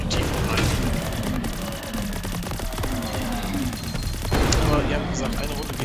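Gunfire and explosions in the video game Greedland, with several sharp bursts and booms popping over a busy game soundscape while someone talks over them.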